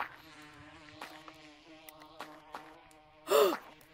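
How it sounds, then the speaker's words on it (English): Bees buzzing in the video game Gorilla Tag, a steady droning hum close by with a few soft bumps and a louder whooshing burst near the end. "There's bees in this game?"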